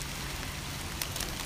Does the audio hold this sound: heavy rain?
yes